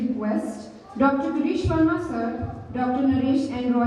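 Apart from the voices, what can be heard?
No distinct noise like a dog, phone or traffic.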